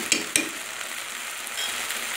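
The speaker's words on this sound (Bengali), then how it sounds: "চালটা আমি দিয়ে দিয়েছি চুলার উপরে, এটা ভালো করে আমি ভেজে নেবো।" Rice frying in a pan with ginger garlic paste for white pulao gives a steady close sizzle, opening with two quick clicks of stirring.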